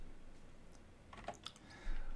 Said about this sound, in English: there are some keystrokes on moving from slide to slide